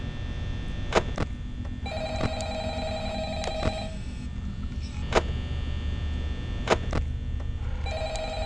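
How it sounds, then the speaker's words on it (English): Old-style telephone ringing in the horror video game Five Nights at Freddy's, repeated trilling bell rings in bursts over a steady hum, with sharp clicking thuds punctuating the scene at intervals. "Beginning to think the phone calls are just there to distract you."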